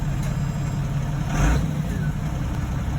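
A steady mid-pitched tractor engine in Farming Simulator 19 idles and hums, with a brief swell of revving partway through.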